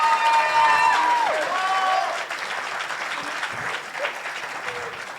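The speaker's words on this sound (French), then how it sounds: "Encore un tonnerre d'applaudissements" A crowd at a closing ceremony applauds steadily and loudly, a dense wash of clapping that holds for several seconds, with a few whistles and cheers on top.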